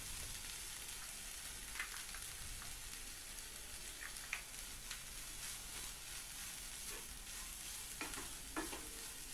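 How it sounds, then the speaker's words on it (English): Spinach mixture sautéing with masala powder and salt for spinach rice, a soft steady sizzle with occasional scrapes of stirring, faint and close, no talking. "Saute this for some time"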